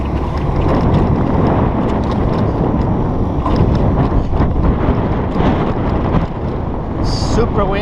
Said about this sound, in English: Super windy already.